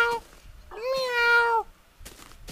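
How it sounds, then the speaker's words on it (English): A single drawn-out meow from an ocelot in Minecraft, rising and then falling over about a second, with short bursts of game noise before and after. "Ocelot!"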